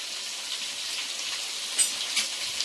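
Ginger garlic paste fries in a pan for chicken leg piece biryani, giving a steady close hiss and sizzle with a couple of brief sharper crackles.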